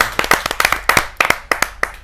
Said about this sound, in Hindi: जोरदार ताली के साथ उनका